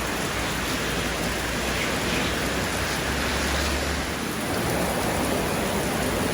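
Heavy rain pours steadily onto a house and its garage area in the Philippines, a dense, loud, unbroken hiss of falling water.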